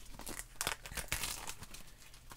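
Plastic film wrap being torn and crumpled off a boxed movie collection, a close sequence of sharp crinkling rips and rustles over a couple of seconds with no talk.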